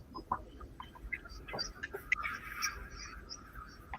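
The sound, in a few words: bird calling in background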